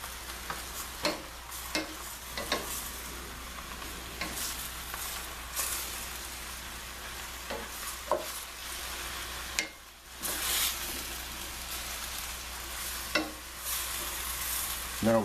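Tomatoes sizzle and fry in a hot pan for a Wu-Mu noodle dish with pork and vegetables, with a steady crackle broken by repeated scraping stirs and a few louder clanks of the utensil.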